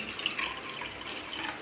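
Water pours steadily from a cup into a pan for sugar syrup, a continuous close splashing trickle lasting under two seconds with no talk.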